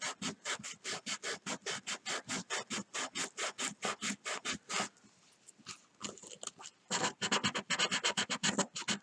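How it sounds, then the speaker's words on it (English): Carved wooden fishing lures are sanded by hand in quick, steady back-and-forth rasping strokes, each scrape close and crisp. The strokes pause briefly partway through, then resume faster. "get them all sanded nice and smooth and round"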